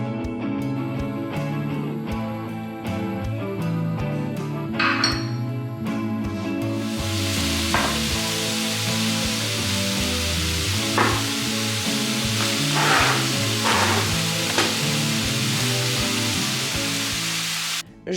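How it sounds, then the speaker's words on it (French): Chicken sizzling in a pan with olive oil, a loud steady frying hiss that starts partway through and continues, with a few faint clinks. Music plays throughout. "je rajoute un filet d'huile d'olive et je lance ma cuisson"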